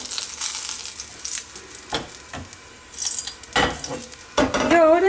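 Duck breast sizzles in its rendered fat in a frying pan, a steady close crackle with occasional clinks and scrapes of a utensil against the pan.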